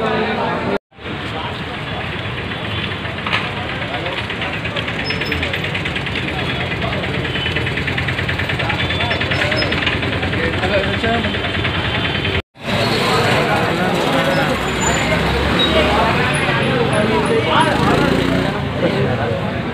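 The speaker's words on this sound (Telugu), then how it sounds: "బైక్లు ఎప్పుడు వచ్చినారు ఇన్ని కదా" Motorbike engines idle and rev in a steady, dense rumble outside Sree Ramulu theatre in Moosapet as fan crowds gather for a film release, with voices talking over the din throughout.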